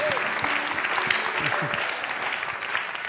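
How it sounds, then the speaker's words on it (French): An audience applauds steadily, a broad wash of clapping with a few faint voices mixed in. "est-ce qu'on peut donner une autre main d'applaudissement?"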